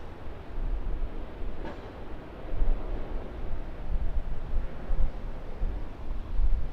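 A Jetstar Boeing 787-8 takes off from runway 16 right, heard from a distance as a broad, steady jet roar. It builds slightly and stays under light wind rumble, with no talking.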